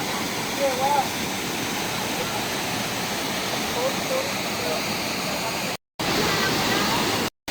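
Humana Falls at Sicao Falls, a loud continuous roar of falling water heard up close, with faint voices under it and two brief dropouts near the end.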